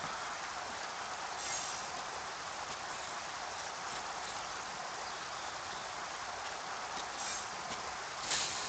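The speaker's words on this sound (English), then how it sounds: "A little rain going on." Steady rain falls in the Viva Pinata video game, a dense even hiss of drops with faint patters throughout and no voices.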